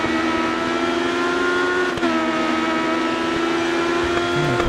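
A race car in the GRID Autosport racing game accelerates hard during a drag race up a backstretch, its engine holding a loud, steady high-revving drone for the whole stretch with a brief dip midway.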